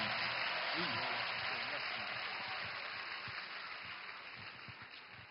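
A church congregation applauding their pastor, a sustained wash of clapping from a large crowd filling the room, slowly fading, with a voice speaking faintly underneath.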